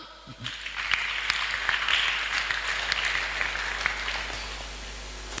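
Congregation applause in a church service, a steady wash of many hands clapping at moderate distance that swells briefly and holds for several seconds before easing off slightly.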